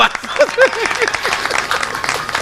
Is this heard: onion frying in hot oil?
no